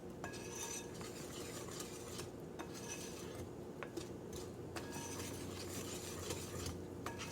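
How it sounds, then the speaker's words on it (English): Banana granola muffin batter being stirred as dry ingredients go into the wet, with steady scraping and clinking of a utensil against the bowl and a few sharper taps, close and fairly quiet, no talking. "to add my dry ingredients into my wet ingredients. I'm going to mix this very nicely."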